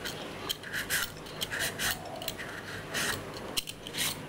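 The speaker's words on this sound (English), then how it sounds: "So now I'm going to peel and grate the carrot." A carrot is peeled and grated by hand for a Thai papaya salad, giving repeated scraping, rasping strokes in short bursts, close and fairly quiet, with no talking.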